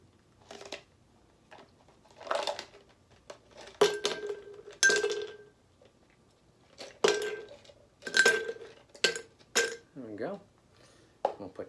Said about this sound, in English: let's add our ice